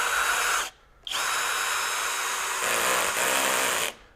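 A Kobalt KHD124 24V brushless hammer drill in screw mode drives a 3.5 inch exterior deck screw into pressure-treated 4x4 lumber, with a loud close motor whine that briefly stops and restarts, then continues steadily before cutting off.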